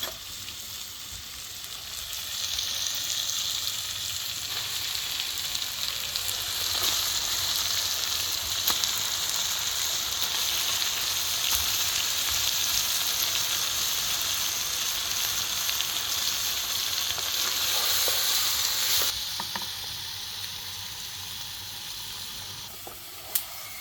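Meat sizzling steadily in a pan of fried spice masala, a dense, even hiss of frying that runs for a long stretch before dropping off near the end.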